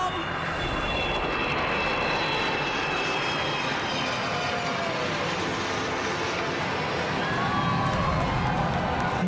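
Black Knights aerobatic jets roar through a bomb burst flypast at the Singapore National Day Parade, a loud continuous engine rumble and whoosh sustained throughout, with crowd noise and an announcer's voice underneath.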